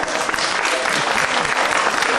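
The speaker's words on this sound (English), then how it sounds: "clap if you've been to Vegreville" Dense applause from a crowd at a Ukrainian festival in Gardenton, steady and loud throughout with a faint cheer or voice now and then.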